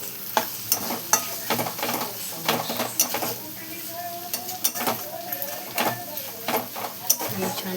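Crushed peas fry with browned onion, tomato and chili in a pan, a steady sizzle broken by repeated scraping and clinking stirring strokes, with no voices.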